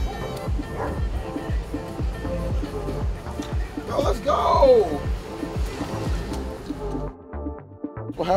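A dog barks and yips in a quick, steady series of short, loud woofs near the listener, with some voices in the background.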